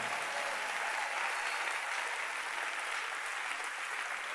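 A church congregation applauds during a worship service, dense continuous clapping that holds steady throughout with no pauses.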